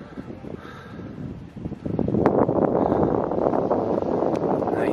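Wind gusts buffet the microphone at a rocky beach on the Moray Firth, rising from a modest rush to a loud, sustained roar midway, with faint bird calls in the background.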